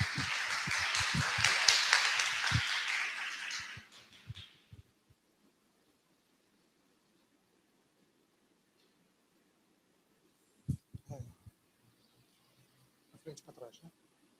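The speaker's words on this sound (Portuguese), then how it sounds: "Uma salva de palmas" Audience applause at a university presentation on Japanese universities, a steady burst of many hands clapping for a few seconds that dies away into silence, followed later by faint scattered handling noises.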